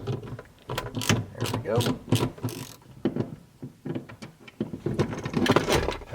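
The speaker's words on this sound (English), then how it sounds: "I'll be taking them off with my socket wrench with a 13mm socket." A socket wrench with a 13mm socket ratchets bolts off a Ford F-250 Powerstroke, giving rapid clicking bursts close by, mixed with clanks and someone talking.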